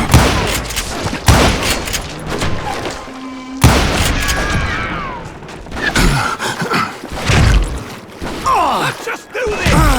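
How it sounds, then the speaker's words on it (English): A dense barrage of gunfire in the Western video game Call of Juarez Gunslinger: repeated loud, overlapping shots and booms in bursts, with shouting voices mixed in. "a fusillade of bullets come raining down from on high"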